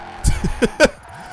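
Tire skids from an SUV drifting in Forza Horizon 4, several short screeching bursts in a row, close and fairly loud over a steady engine drone.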